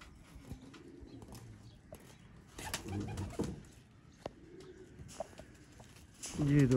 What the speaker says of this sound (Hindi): दोस्तों ये कबूतर है